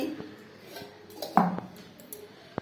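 Plates and bowls clink together a few times during a home lunch of Bengali dishes, brief close clatters with a louder knock in the middle over a quiet room.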